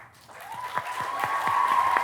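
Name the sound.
applause for graduating class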